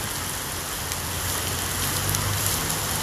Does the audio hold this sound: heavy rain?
yes